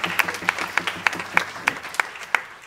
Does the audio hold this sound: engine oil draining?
no